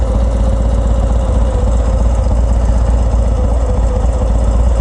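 A 2019 Harley-Davidson FXDR 114 fitted with a Bassani Road Rage exhaust idles close by, a steady, loud, low rumbling throb that holds constant throughout with no talking.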